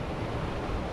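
Ocean surf at a seaside fishing spot rolls in a continuous broadband rush, loud and close, with wind buffeting the microphone throughout.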